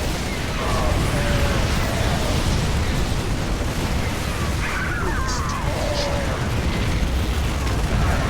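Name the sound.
nuke explosion in the video game StarCraft II campaign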